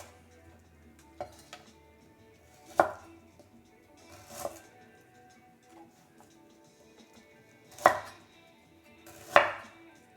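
A knife chops vegetables for a coconut curry on a cutting board, five or six sharp, distinct knocks spaced a second or more apart, fairly quiet and close, with light kitchen clatter in between.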